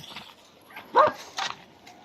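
A couple of short dog barks and yips ring out at moderate distance, with brief pauses between them.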